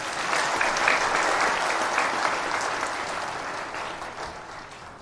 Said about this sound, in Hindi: और ताली तो बजा दिया करें